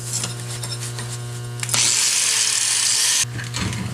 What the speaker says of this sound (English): let me grind it off and we'll do it again